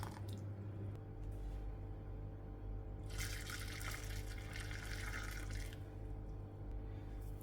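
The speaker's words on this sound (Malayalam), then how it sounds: "ഇത് ചൂടോട് കൂടി തന്നെ നമുക്ക് പൊടിയിലേക്ക് അരിച്ചൊഴിച്ചു കൊടുക്കാം" Hot melted jaggery syrup poured through a strainer into rice flour in a kitchen, a steady liquid splashing and pouring sound lasting a few seconds over a constant low background hum.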